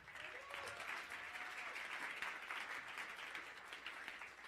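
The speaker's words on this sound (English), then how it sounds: "Another big round of applause" Applause from a conference audience after a session: a dense, even wash of many hands clapping that holds at a steady level the whole way through, slightly distant, with no speech over it.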